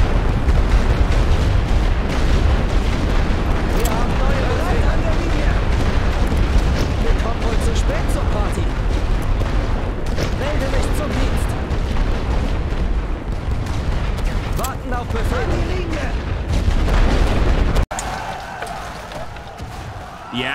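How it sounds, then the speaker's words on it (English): Artillery barrage in the WWI game The Great War Western Front: a loud, continuous wall of rumbling booms and blasts that thins abruptly near the end. "I am going to keep just continuous strikes here with this artillery to weaken"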